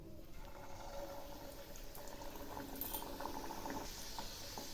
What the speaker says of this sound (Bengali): তেল গরম হয়ে গেছে, এখন ছেড়ে দিচ্ছি।